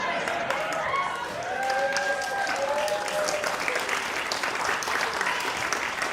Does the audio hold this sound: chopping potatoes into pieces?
no